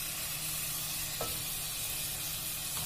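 Fried mushrooms are added to a masala for a vegetarian roast, giving a faint, steady sizzle and hiss in the pan with a couple of soft clinks.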